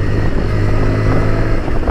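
A 2023 Bajaj Pulsar 125 E20 BS7 motorcycle being ridden, its engine drone steady and loud under heavy wind rush, with no talking.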